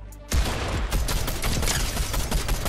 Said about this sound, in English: Yeah, keep shooting at me.